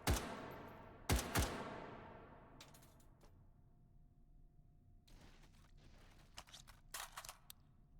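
Armor-piercing gunfire in a video game: two sharp, loud shots up front, each ringing into a long decaying tail, then softer clicks and mechanical clatter before a short burst of quicker crackling shots near the end.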